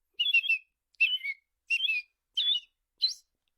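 A person whistles an imitation of an American robin's call with the mouth, five short, clear warbling phrases spaced evenly apart against total silence.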